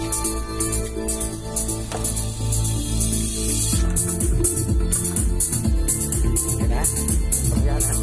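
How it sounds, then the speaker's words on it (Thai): A hollow-body electric guitar strummed live through an amplifier, in a shop selling used audio gear, with chords ringing and changing rhythmically, loud and close, alongside a faint voice. "แล้วพี่ลองดีดให้ฟังสักหน่อยนะไอ้ตัวนี้ตัวกีตาร์โป่งฮะ"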